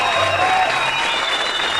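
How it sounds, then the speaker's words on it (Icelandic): Studio audience applause for the performer Ofurbaldur on a 1994 Icelandic television talk show, a steady dense clapping wash that fills the whole moment at even loudness. "Þetta er Ofurbaldur, gefum hann gott klapp"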